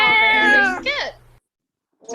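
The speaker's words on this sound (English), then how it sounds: "Cat is an animal" A cat gives a drawn-out meow followed by a shorter wavering one, close and clear, then brief silence before another sound begins.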